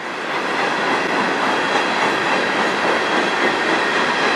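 Freight train 491, known as the snail train, rumbling past close by on the Strathroy Sub with a loud, steady roar of wheels on rail and no break.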